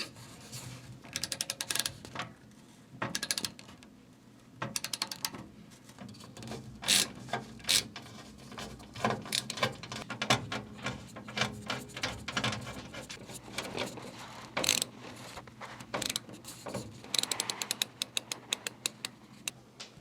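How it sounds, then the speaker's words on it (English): An LTT ratcheting screwdriver is used to build a PC, making quiet, close clicking ratchet bursts and scraping turns in irregular clusters with short pauses between them. "I am enjoying using the screwdriver to build this computer"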